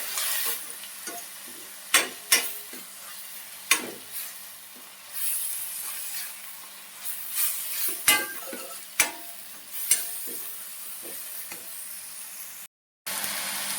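Tomatoes sautéed in a pan for a chana bhaji, a constant sizzle broken by sharp spatula scrapes and knocks against the pan at irregular intervals, close up.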